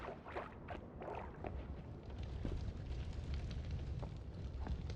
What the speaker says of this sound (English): Like I've heard explosions.